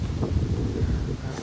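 Wind buffets the microphone at an outdoor archery range, a steady low rumbling roar with gusty swells and no speech.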